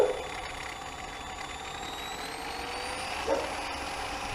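A polishing buffer motor whines steadily while buffing a fiberglass gel coat boat hull, its pitch climbing gradually as it spins faster, with a brief thump partway through.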